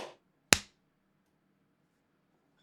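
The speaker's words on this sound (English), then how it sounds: "I'm gonna clap again just to make sure." A hand clap for audio sync, one sharp close clap with a brief room decay in a quiet space, preceded by the tail of an earlier sound and followed by a tiny click near the end.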